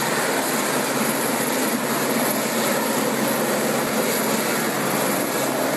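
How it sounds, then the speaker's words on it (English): A helicopter hovering low over a local swimming pool to take on water, a loud steady broadband rotor and engine roar filling the whole stretch without a break. "The helicopter in this video can be seen taking water from a local swimming pool."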